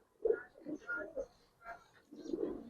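Giribaz pigeons coo softly inside a loft, a few low throaty burbles in short uneven bursts, close and quiet.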